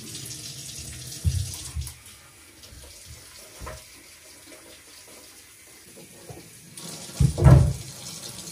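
Tap water runs into a kitchen sink piled with dishes. A steady low rush with a couple of louder splashes early on, then a strong surge of water near the end.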